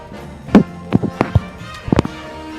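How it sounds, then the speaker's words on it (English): Fireworks sound effect triggered on a live stream: several sharp pops and crackling bursts, near and fairly loud, spaced across a couple of seconds with a few quicker clustered bangs toward the end. "You get some fireworks."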